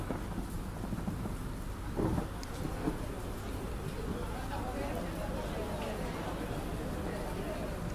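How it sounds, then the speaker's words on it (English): A recorded thunderstorm from an ambient sound app: steady heavy rain hiss throughout, with a low thunder rumble swelling around the two-second mark, continuous and fairly loud. "And you can dial it up or down, like more thunder, or just zero rain."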